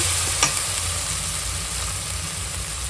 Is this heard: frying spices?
yes